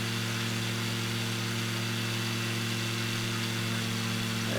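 A car engine droning steadily while driving on a road as the throttle is eased off, a constant low hum with road noise, moderately loud with no talk.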